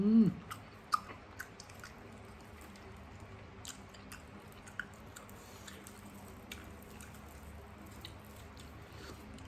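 Soft, wet chewing of red lotus stems at close range, with a loud first crunch followed by faint, irregular squishy bites and small clicks over quiet background hiss.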